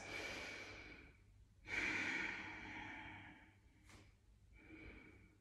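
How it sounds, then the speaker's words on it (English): Children breathe deeply during a yoga stretch in a school class, two or three slow, airy breaths in and out with pauses between, fairly close and soft. "take a nice big deep breath in"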